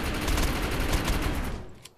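Rapid, heavy-recoil weapon fire in the video game Defiance, a dense, continuous burst of loud shots that cuts off near the end.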